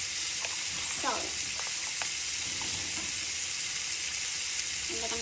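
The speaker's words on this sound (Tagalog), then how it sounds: "Ba nagigisa, lalagyan natin ng salt." Broccoli and chicken liver sizzle steadily while being sautéed in a pan, with a constant frying hiss, light stirring scrapes and a soft voice faintly underneath.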